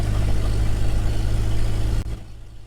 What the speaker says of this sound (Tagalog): mga boss yung sasakyan natin, umaandar na